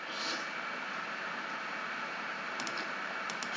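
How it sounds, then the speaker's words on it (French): A computer fan running loudly, a steady broadband whooshing hum that holds constant throughout, with faint clicks on top. "mon ordinateur il fait un bruit de."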